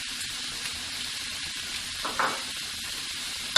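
Seasoned shrimp starting to cook in a hot pan, a steady close sizzle with a brief louder crackle midway and a clatter at the end.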